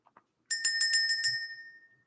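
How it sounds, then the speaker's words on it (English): A small hand bell rings about seven quick strikes in a row, bright and close, each ring decaying into a fading tail with no talking. "Let's ring the bell."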